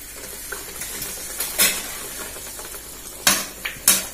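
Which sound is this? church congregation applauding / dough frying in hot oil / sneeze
dough frying in hot oil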